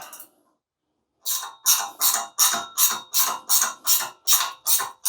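A 3/8-inch ratchet turns the adjustment stud on a BAL Exact-Slide bottom exterior slide-out cable, giving about ten quick, evenly spaced clicking pawl bursts. The bursts are close and loud and follow a brief pause.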